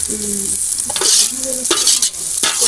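Onions frying in a pan for Jaffna-style kothu roti, cooked outdoors in a village: a loud, close sizzle with brisk stirring scrapes and a few sharp clanks of metal on the pan.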